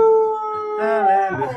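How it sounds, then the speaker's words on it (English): A dog howls loudly and close by along to singing, in long, wavering tones that rise and bend, its pitch shifting as the howl goes on. "That's a good old singing dog, isn't it?"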